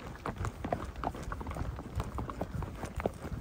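Hooves of a Marwari horse cantering on an 80 km long-distance ride in the dark pound quickly and steadily, a close rhythmic clip-clop with soft rustling and tack noise around it.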